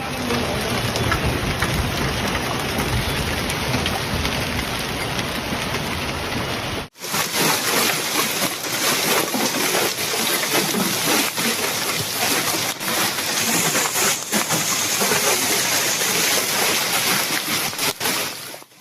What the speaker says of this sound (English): Loud impacts from hailstones could be heard hitting rooftops, windows, and parked cars throughout the city.